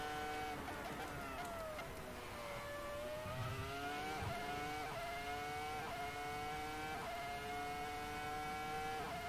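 A Ferrari F2004 Formula One car engine in a racing video game screams continuously through a lap on new tyres, its pitch sliding down under braking, then climbing through repeated rising gear runs, steady and fairly quiet.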